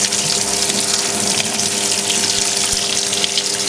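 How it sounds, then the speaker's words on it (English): A 2002 Kelvinator K605 washing machine on a regular cycle turns its tub while filling with water, giving a steady loud rush of flowing water over a low motor hum, with no talk. "Turning the tub as we go, getting everything nice and soaked in water."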